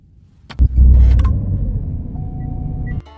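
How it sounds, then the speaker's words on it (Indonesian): A car engine cranks and starts after the start button is pressed repeatedly, with a sharp click, then a loud low rumble that settles into a steady idle before cutting off. "Shiro menekan berkali-kali tombol start atau tombol untuk menyalakan mobil, dan tiba-tiba mobil tersebut menyala"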